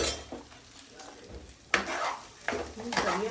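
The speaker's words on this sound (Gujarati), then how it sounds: "એટલે હું મિક્સ કરું ચટપટ કરી" Khichdi is stirred in a pot, with scraping spoon strokes and soft clinks against metal over a faint sizzle, in a few uneven bursts.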